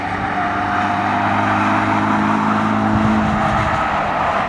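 A 2017 Honda Civic Si with its 1.5-liter turbocharged four-cylinder and 6-speed manual goes by at full throttle, a loud, steady engine buzz that holds for several seconds before easing slightly near the end.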